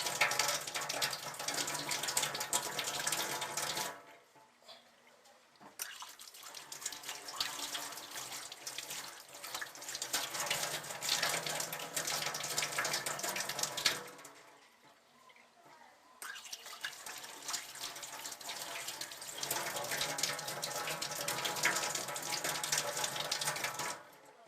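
Water gushes from the tap of a mains-powered automatic hand washing system in three steady runs, each stopping briefly before starting again, close and hissing, with no talk.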